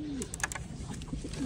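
Pigeons cooing close by in a domestic coop, a few soft low coos spread across a short stretch with faint background noise and no talk.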